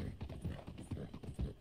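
Horse hooves clip-clop in a steady walking rhythm in the video game Red Dead Redemption 2, close and soft, with several distinct hoof strikes in quick succession.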